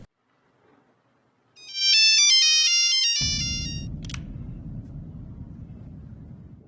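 A mobile phone ringtone plays in a film scene, a loud electronic melodic tone lasting a couple of seconds, followed by a low rumbling ambience.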